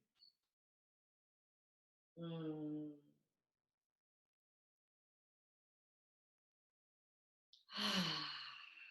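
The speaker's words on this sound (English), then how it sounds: "Big deep breaths in and exhaling out of the mouth." Slow, deep breathing during a guided breathing exercise: one soft breath, a long pause, then a louder, breathy exhale through the mouth, all close and isolated in silence.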